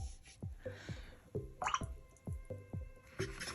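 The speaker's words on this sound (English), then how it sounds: "make sure that you're always rinsing your brush out" A watercolor brush swished and tapped in a water jar while painting, giving a steady series of close, wet drips and squishy splashes, about seven in a row at even intervals.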